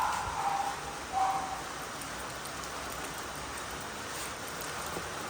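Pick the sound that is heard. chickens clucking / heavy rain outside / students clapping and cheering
heavy rain outside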